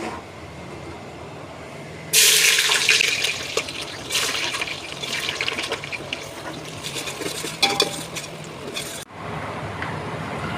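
Onions go into smoking-hot oil in a large pot, setting off a sudden loud hiss and crackle that slowly settles into a rougher bubbling sizzle before it cuts off.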